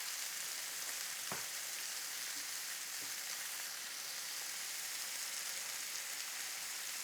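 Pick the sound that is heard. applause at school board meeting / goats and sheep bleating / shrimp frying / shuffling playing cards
shrimp frying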